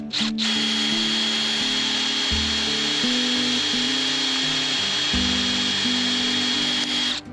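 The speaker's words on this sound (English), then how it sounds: "I will drill every single piece and make plugs from the waste." Power drill boring steadily through teak offcuts to cut wooden plugs, a loud continuous whine with shifting pitch as the bit bites, running unbroken for several seconds without talk.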